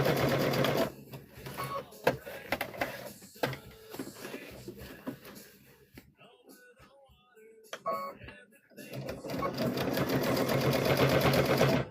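A sewing machine top-stitches the upper edge of a fabric trick-or-treat bag, running in fast whirring bursts that stop and start, with a near-silent pause midway before a final steady run; close and fairly quiet.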